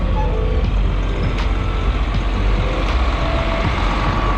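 Farm grain truck being moved during bean harvest, a loud, close, steady engine rumble with a heavy low idle, faint beeping and brief hissing bursts on top.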